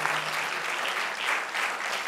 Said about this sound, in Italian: Grazie, ma più forte questo applauso